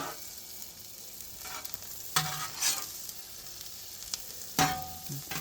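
Butter and onions sizzling on an oiled grill, a continuous hiss with a few louder scraping stirs breaking through, no talking.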